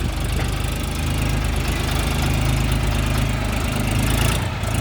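A Lovol 24 mini tractor on narrow tires idles close by, its diesel engine chugging in a steady, loud, knocking rumble with constant vibration.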